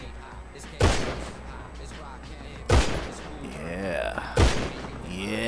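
Three loud gunshots spaced about two seconds apart, fired at car wheels in GTA 5, each a sharp crack with a brief ringing tail, while someone talks briefly in between.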